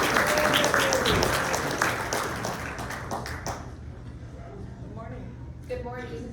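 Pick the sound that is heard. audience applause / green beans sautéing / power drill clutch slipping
audience applause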